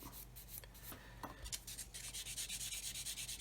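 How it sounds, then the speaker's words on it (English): Soft, quick back-and-forth rasping of a sanding stick rubbing a small plastic part of a 1/24 scale Hellcat model kit cockpit, steady and close, with no voices. "I'm going to take this sanding stick and just remove"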